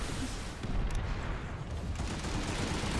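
Distant rolling gunfire and booming explosions from a Planetside 2 battle form a dense, muffled barrage of overlapping shots and rumbles, heard without clear speech.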